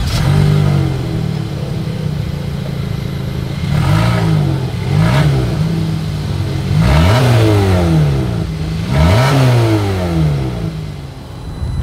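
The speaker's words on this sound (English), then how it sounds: "As always, here is that exhaust clip." A 2024 Kia Sportage's exhaust revs repeatedly, with a steady idle drone broken by four sharp throttle blips that rise and fall, loud and close, with no talking.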